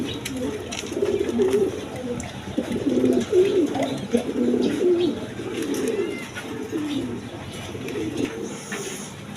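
Healthy pigeons coo repeatedly up close, low throaty warbling calls rising and falling across the whole stretch, with a voice faintly mixed in.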